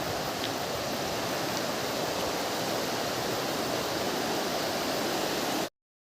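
A fast-flowing river near Longding rushes past close by in a loud, continuous, steady roar of water, with no voices over it.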